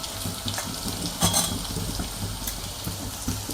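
Garlic sizzles in hot oil in a pan while a pumpkin dish is cooked, giving a steady, close hiss with soft stirring clinks and a brief louder crackle partway through.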